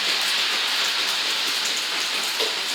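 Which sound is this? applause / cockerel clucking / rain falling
rain falling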